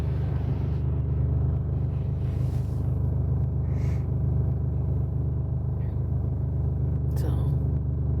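A cat purring close by, a steady low rumble that runs unbroken throughout with no talk over it.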